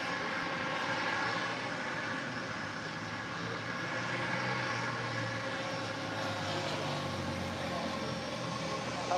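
A heavy airliner takes off from runway 25 right at LAX, a sustained, fairly distant engine roar that stays even and continuous throughout, with no talking.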